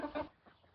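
Roosters squabble in a farmyard, giving a couple of loud, close clucking bursts at the start that fade into quieter scratchy fowl noise.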